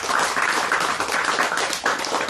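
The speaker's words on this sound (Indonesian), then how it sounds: "tepuk tangan." Audience clapping at a live talk event, a steady dense patter of many hands filling the room, fairly loud and continuous with no speech over it.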